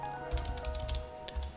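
Quick, light clicking of a computer keyboard as a web address is typed into a browser, a close burst of keystrokes with no talk.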